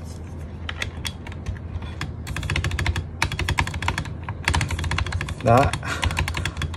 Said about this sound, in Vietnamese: bấm xuống nó bị nghẹt lại, nó không có bottom out được nên nghe nó cứ tịch tịch kiểu gì á.